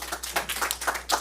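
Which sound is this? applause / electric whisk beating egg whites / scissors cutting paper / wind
applause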